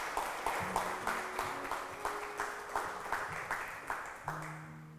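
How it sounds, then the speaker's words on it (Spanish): Congregation applause during a church sermon, a run of rhythmic group claps at a steady beat with a sustained musical tone underneath, quiet and somewhat distant. "Un aplauso grande al Señor"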